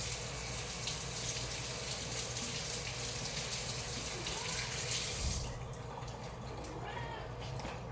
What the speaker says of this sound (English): So we need to probably give that a rinse.